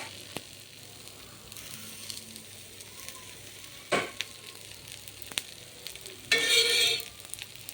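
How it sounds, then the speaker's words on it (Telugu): A wheat dosa sizzles on a pan after a spoonful of oil goes in: a soft, low frying hiss with scattered crackles, rising into two brief, louder sizzling bursts near the end. "దోశ వేసిన తర్వాత 1 స్పూన్ దాకా ఆయిల్ వేయండి."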